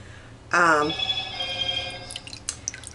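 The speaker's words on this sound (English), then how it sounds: "That's my phone. Let me know that I need to recharge." Smartphone low battery alert, a single bright electronic chime that rings out clearly for about half a second and fades, heard alone in a quiet kitchen.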